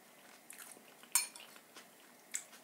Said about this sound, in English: I'm gonna take a bite and see if it's good.